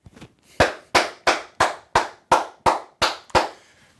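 A single person claps nine times in a steady, slightly slowing rhythm, each sharp slap close and loud, with a faint rustle at the start and no talk.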